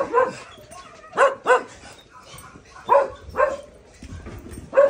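A dog barks in short bursts, two or three at a time with pauses between, mixed with higher whiny whimpers; close and fairly loud.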